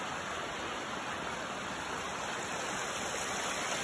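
Constant, full rush of a waterfall, a dense broadband roar that stays steady and close with no voices.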